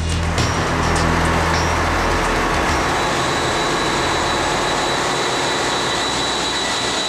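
A loud, steady roar from a large 30,000-horsepower diesel engine on a test run, broadband and continuous with a deep low rumble, running at full power without pause.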